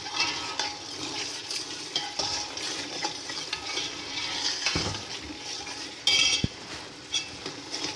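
Groundnut oil being stirred in a cooking pot for jollof rice, with repeated scraping and clinks of a utensil against the pot over a faint sizzle.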